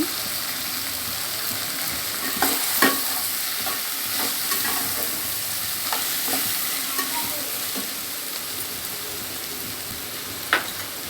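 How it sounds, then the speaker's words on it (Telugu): Grated carrot is stirred and fried in a pan for poha, making a continuous close sizzle broken by scraping spoon strokes and a few sharp clicks against the pan, with no talking. "క్యారెట్ తురుము వేసుకుంటాను"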